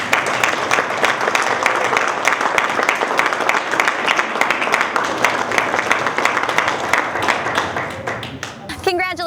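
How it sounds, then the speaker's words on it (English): A crowd applauds high school girl athletes at a North High sports event, with sustained, full clapping from many people that runs almost the whole time before a voice breaks in at the close. "Let's give them another round of applause"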